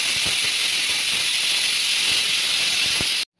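Water rolls at a full boil in a pot, a steady loud hiss of bubbling and steam that holds evenly throughout, then cuts off abruptly at the end.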